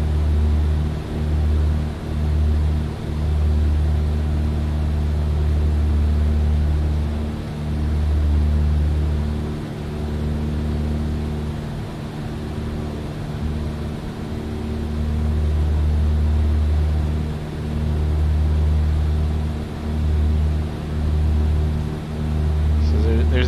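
Steady drone of a light piston aircraft engine held around 2,300 RPM in Microsoft Flight Simulator 2020, a continuous low hum with pulsing low-end throb, loud and constant throughout, with a voice talking over it.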